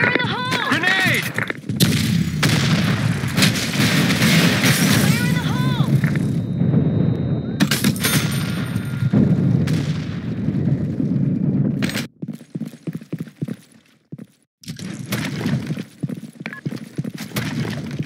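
Grenade explosions and gunfire in a tactical shooter video game, several loud booms and sharp bursts in quick succession over game voice callouts, followed by choppier, sparser impacts toward the end.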